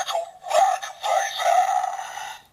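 A DX Gashacon Bugvisor toy plays its startup sound effect, a loud, bright electronic jingle of tonal bursts and flourishes lasting a couple of seconds, heard alone.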